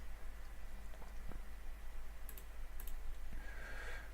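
A few faint, scattered clicks of a computer keyboard's caps lock key being pressed repeatedly, sitting beneath a steady hiss of background noise.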